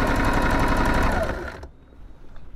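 A sewing machine stitches folded fabric bunting with a fast, steady mechanical chatter at close range. It stops abruptly partway through, leaving faint handling noise and quiet room sound.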